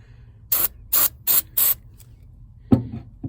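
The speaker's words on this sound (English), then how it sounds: "I'm going to use some white lithium grease on the latch mechanism here" White lithium grease sprayed onto the tailgate latch of a Nissan Titan: four short, evenly spaced aerosol hisses close up, followed by a metallic click and clunk.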